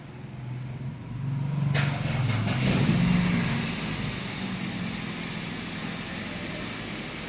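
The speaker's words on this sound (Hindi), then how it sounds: "अब आप देखो कि जब मैं गाड़ी स्टार्ट करता हूं तो क्या चेंजेस आते हैं।" A car engine cranks and catches, swelling into a steady idle that rises briefly and then settles into a constant low hum, heard fairly close with no talking.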